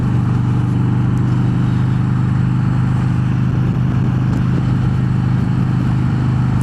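A Harley-Davidson Road Glide Special motorcycle rumbles along while being ridden, a loud, steady low engine drone with a strong even pulse that holds throughout.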